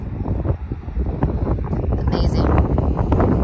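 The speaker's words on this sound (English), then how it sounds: "The wind is blowing so strong, my shirt keeps blowing up." Strong gusting wind buffets the microphone on an open overlook in South Dakota's Badlands, a steady loud rumble throughout, with a brief spoken exclamation over it.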